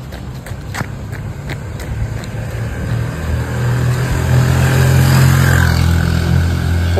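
Vehicles pass along a busy, rough road: a continuous motor roar swells and builds toward the end, with a few sharp ticks early on and no clear talk.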